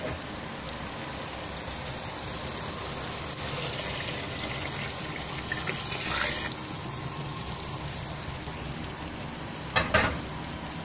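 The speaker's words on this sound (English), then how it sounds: "Now we will add water in it" Water pouring into a pot of Bengali black-eyed pea curry as it cooks, a steady hiss and sizzle with a brief louder splash or clatter near the end, no talking.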